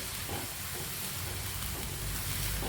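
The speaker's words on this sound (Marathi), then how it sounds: "कांदा टाकलाय बघा परतायला" Finely chopped onion fries in hot oil for a village-style chicken rassa, a continuous close hissing sizzle holding steady from start to finish with no talking.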